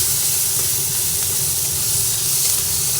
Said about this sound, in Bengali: এরপরে আমি কড়ার তেলের মধ্যে কুচানো পেঁয়াজগুলো দিয়ে দিলাম